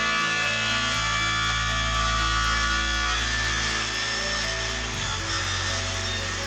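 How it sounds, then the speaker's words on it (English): A circular saw cutting wood to even out grooves in a first woodworking piece, a loud continuous whine and roar with a slight shift in pitch partway through, heard close up without any talk. "So I attempted some tidy up, first with a circular saw, trying to even out the grooves on that first piece"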